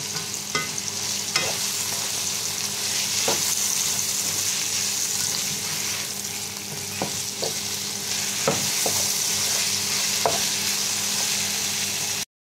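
Sautéed pork with tomato and chayote is stirred in a pan, a steady loud sizzle of frying broken by occasional sharp clacks of the utensil against the pan.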